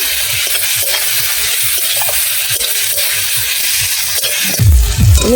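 Crushed ginger and garlic frying in a pan give a loud, continuous sizzle with rhythmic stirring strokes throughout, and a heavier scraping clatter at the very end.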